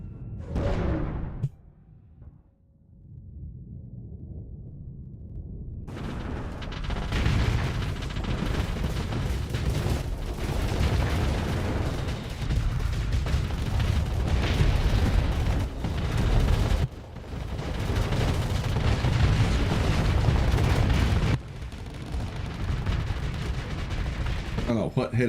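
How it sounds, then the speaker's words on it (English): Explosions and weapons fire in the space strategy game Starsector, with dense booming blasts and bursts layered continuously with brief cuts between barrages, while a voice talks over the action. "I think it was the explosion."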